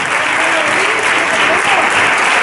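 Loud, dense audience applause at a live radio event closing the first act, a sustained wash of many people clapping close to the microphone and steady in intensity.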